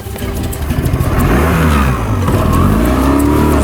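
A fishing boat's outboard motor runs on a trout fishing trip, loud and close, its revving pitch rising and shifting continuously.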